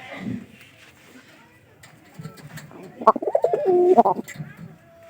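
A pigeon coos in a low, rolling series of throaty calls near the end, close and clear, with some quieter voice and background sounds before it, where a pigeon pair is being settled together.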